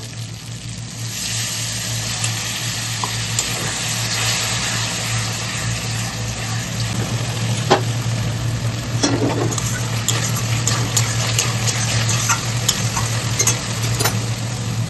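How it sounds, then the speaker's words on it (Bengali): A vegetarian curry with paneer sizzles and fries in a hot pan as a little hot water is added, a loud continuous sizzle with stirring scrapes throughout and no voices. "এবার আমরা আর একটু গরম জল দেবো, দিয়ে আর একটু কষিয়ে নেবো।"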